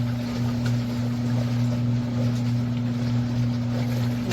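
An Auertech portable twin tub washing machine running its wash cycle gives a steady, continuous motor hum with a low tonal drone and a faint churning wash underneath, close and unbroken.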